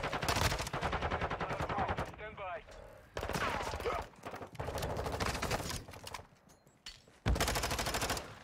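Rapid bursts of gunfire and a shotgun blast in a first-person shooter video game, loud and clipped, in repeated volleys separated by short gaps, with a voice speaking briefly between them.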